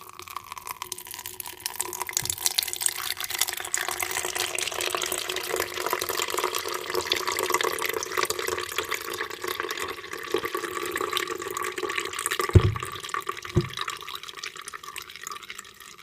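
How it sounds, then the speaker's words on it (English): Blended carrot pulp is poured into a strainer, making a continuous close wet trickling and splashing that runs steadily with a few soft knocks of the container, and no voices. "So now I'm gonna transfer all of my blend up carrot to my strainer."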